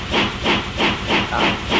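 Loud, rhythmic bursts of hissing steam pulse about three times per second, like a steam train chuffing steadily up close, from a steam train in Minecraft's Immersive Railroading mod.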